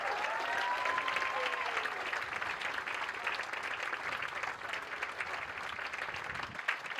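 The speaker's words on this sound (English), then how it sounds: "I think they deserve another round of applause." Audience at a Sorry Day breakfast giving Waka Waka dancers a round of applause, a dense, steady burst of clapping that carries evenly for several seconds with a brief tone near the start.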